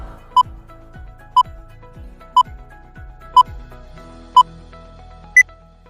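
A quiz countdown timer ticks off five evenly spaced, sharp electronic beeps, one per second, each over a low descending thump, with a final higher-pitched tone closing the count; no one speaks.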